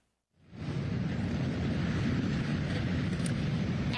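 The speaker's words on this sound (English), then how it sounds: "You can hear those engines revving." Engines of a police motorcycle brigade start up for a funeral procession, rising within half a second into a loud, steady, broad roar that holds without a break.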